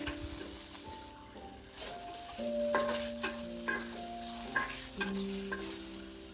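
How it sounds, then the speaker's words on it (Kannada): Tomato and tamarind fry in a pan with a soft, steady sizzle. Quiet scraping and stirring clicks recur throughout, and a few tonal hums sit underneath. "ಆಮೇಲೆ ಟೊಮ್ಯಾಟೊ ಆ್ಯಂಡ್ ಹುಣಸೆಹಣ್ಣು ಇವಿಷ್ಟು ಚೆಂದಾಗಿ ಹುರ್ಕೊಳ್ರಿ"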